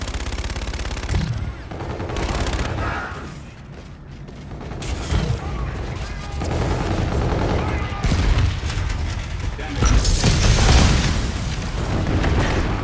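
Dense gunfire from Call of Duty: Infinite Warfare, with rapid automatic bursts and heavy booms packed together across the whole stretch, loud and continuous with barely any pause.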